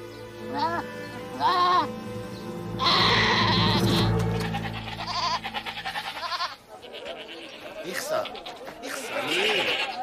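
A goat bleats several times in quavering cries, mixed with other livestock calls and a speaking voice layered on top.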